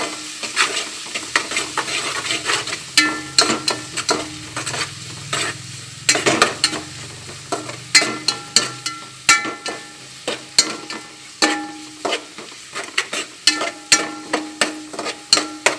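Onions for vegetable biryani fry in a pan with a constant sizzle, while a spoon stirs and scrapes against the pan in regular clinks throughout.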